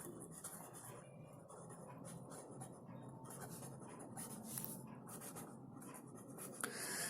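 Steady pen-on-paper scratching fills a maths lesson, with continuous close strokes, short pauses and brief faster flicks, and no talk over it.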